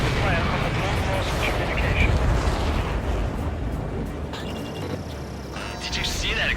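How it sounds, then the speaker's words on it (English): A shot-down supply ship explodes in Ace Combat 7, with a dense, sustained rumbling blast and crackling debris under radio chatter, with sharper bursts near the end. "Did you see that explosion?"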